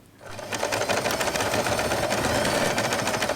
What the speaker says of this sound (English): We are going to sew all along the edges.